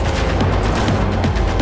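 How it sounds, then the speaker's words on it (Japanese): An explosion goes off in the video game Cyberpunk 2077 in the middle of a firefight. Loud, dense booms and rapid bursts crowd together in a short, continuous barrage with no talk. "うわぁ、爆発した。"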